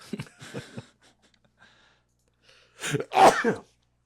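A sharp, loud sneeze bursting out close by, after a few faint, scattered mouth and breath sounds.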